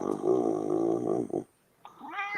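A cat makes a close, rough, buzzing snore-like purr for over a second, then falls silent briefly before a short rising meow-like call.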